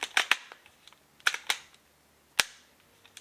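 A Nikon SB-700 speedlight flash head clicks and locks as it is moved, sharp close mechanical clicks in small clusters, then a single louder snap, in a quiet room.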